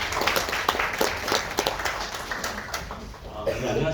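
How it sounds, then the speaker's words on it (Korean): Applause from a seminar audience in a Seoul hotel ballroom, greeting a forestry agency presenter at an ESG and forest carbon event; dense, steady clapping throughout with some voices mixed in. "큰 박수 부탁드립니다."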